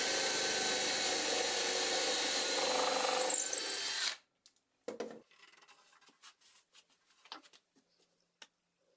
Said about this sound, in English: I swapped it for a real wood bit, and it was like drilling in butter